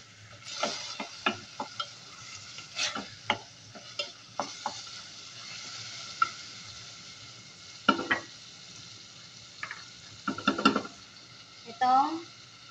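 Chicken breast frying in a pan, a low sizzle broken by irregular clattering stirring and scraping bursts, close and fairly quiet, with no talking.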